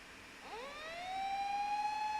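A police car siren in the Fate/Stay Night video game rises in a steep upward sweep, then settles into a steady, sustained wail, heard alone at moderate loudness.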